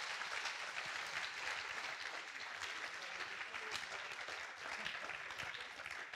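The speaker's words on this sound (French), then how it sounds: "Vraiment, on peut t'applaudir encore parce qu'il a tout donné." A closing-keynote crowd at a tech conference gives a speaker sustained applause, a thick, steady roar of clapping from many people that holds at an even level throughout.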